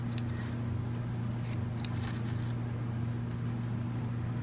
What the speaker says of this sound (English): you will go and trim all of the loops with your scissors